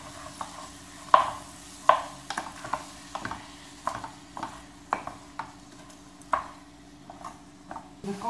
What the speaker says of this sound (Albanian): Në kohë që qepa skuqet